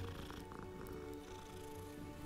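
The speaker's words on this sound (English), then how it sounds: "You can pet the kitties." A cat in the video game Hogwarts Legacy purring steadily while being petted, low and continuous under soft game background sound.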